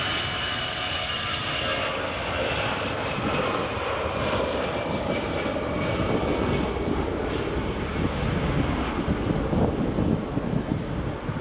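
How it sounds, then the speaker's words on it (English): An EasyJet Holidays airliner in special livery at Edinburgh Airport, a continuous broad engine roar with some wind buffeting on the microphone, building slightly as the plane moves, with no voices. "next up is EasyJet's Holidays livery"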